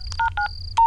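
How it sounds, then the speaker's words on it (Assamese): Mobile phone keypad dialing tones, a few short beeps in an irregular rhythm, clear and close with no talk. "এই নিজৰ মোবাইল নম্বৰত মই ফোন কৰোঁ"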